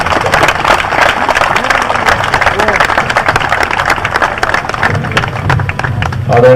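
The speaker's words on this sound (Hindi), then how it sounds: "जोरदार तालियां" Loud, sustained applause from a crowd honoring doctors at a ceremony, steady clapping throughout with some crowd noise mixed in.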